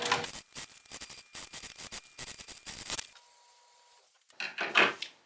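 A sewing machine stitching around a bag lining runs in short bursts of rapid mechanical whirring with brief pauses, then falls quiet before a final louder burst of handling clatter.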